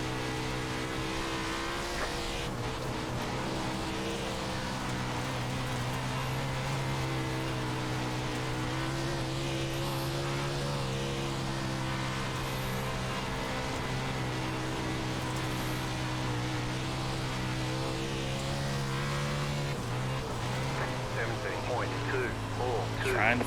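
Dirt race car engines drone steadily at Knoxville Raceway in iRacing Dirt's World of Outlaws event, a sustained, fairly loud hum with shifting pitch as cars run together, with speech occasionally over it.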